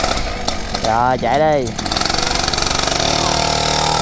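Motorcycle engines start up for a group ride through rice fields, a brief rising whine of a starter and revving, then a steady rapid idling putter, with a short spoken exchange over it.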